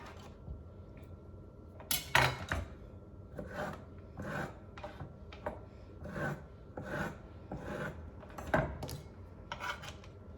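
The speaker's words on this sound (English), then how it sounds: "I will have to keep using a sharpener to cut it with." A kitchen knife is drawn repeatedly through a handheld sharpener, giving close, irregular rasping strokes with quiet gaps between them, some strokes sharper and louder than others.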